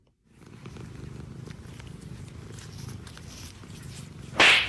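A foster kitten purrs steadily and close by indoors, a continuous low rumbling, ending with a brief louder scuffing noise.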